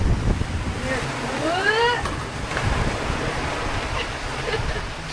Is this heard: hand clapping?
no